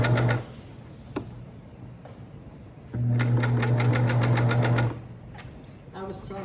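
A sewing machine stitches a chair cover in two short bursts of rapid whirring, the second one longer, with someone talking quietly in between.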